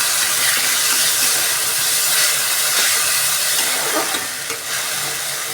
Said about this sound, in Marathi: आपली जी मुगाची डाळ होती तेलामध्ये फ्राय केलेलं आहे